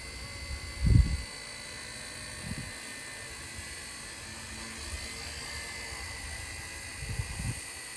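A small electric RC UH-1 model helicopter lands indoors, its motor giving a steady high whine with faint low thumps as it settles, quiet and close with no talk.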